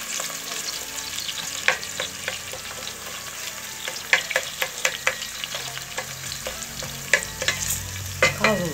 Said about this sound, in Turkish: Bazı salçam bir müddet kavurduktan sonra